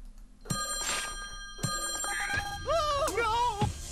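A red telephone in the video game Slayaway Camp rings in two sharp bell bursts, followed by warbling electronic tones, loud and close with no speech.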